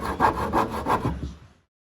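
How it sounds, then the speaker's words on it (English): Scraping old undercoating off the steel fender of a 1964 Chevrolet C10 pickup, a close rhythmic series of four or five rasping strokes that fades out and stops partway through. "The existing undercoating was scraped from the fender so the metal could be better inspected."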